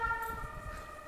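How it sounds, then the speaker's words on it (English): An emergency siren wails outside, steady and moderately distant, its tonal pitch sweeping over faint background rumble with no one talking. "Do you hear that siren?"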